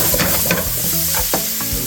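Garlic and ginger sizzle loudly in a hot pan for a shrimp and broccoli stir-fry, a steady hiss broken by a few sharp stirring scrapes, close and with no talking.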